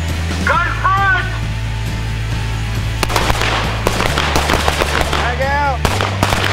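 Handgun shots fired at a teachers' active shooter training range, heard as sharp, rapid cracks in uneven clusters over steady outdoor background hum, with an instructor calling commands between the bursts.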